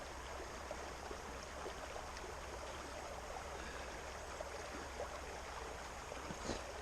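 Water swishes steadily in a gold pan being backwashed at a creek, a faint continuous wash and trickle with no talk over it.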